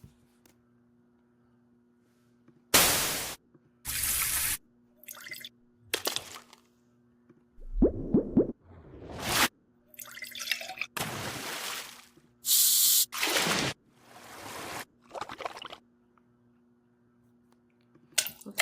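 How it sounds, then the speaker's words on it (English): A series of separate water splash sound effects, about eight short bursts at irregular intervals, some sharp and bright, others fuller and longer, with near-silence between them. "Water splash."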